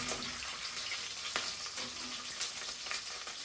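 Pork frying in a pan, a close crackling sizzle punctuated by a few sharp stirring clicks and scrapes, with no talking.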